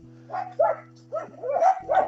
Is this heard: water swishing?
no